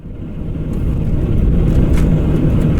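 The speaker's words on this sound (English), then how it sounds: "I started the truck up, got the truck's air compressor running" A truck engine starts and runs on a remote roadside during a tire repair, a loud steady rumble that builds slightly and then holds, close by with no talk.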